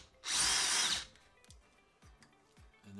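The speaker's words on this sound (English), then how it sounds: "I'm gonna start right off with the left-handed center drill and hope that it backs out just like that first one did" A power drill spins a left-handed center drill bit into a broken screw, a loud high whine lasting under a second, followed by soft clicks and light handling noises.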